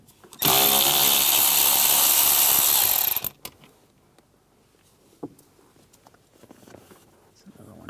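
A power tool with a 7mm socket whirs loudly for about three seconds, removing screws beneath the dash of a 2005-2007 Ford Five Hundred, then stops, followed by faint clicks and small handling noises.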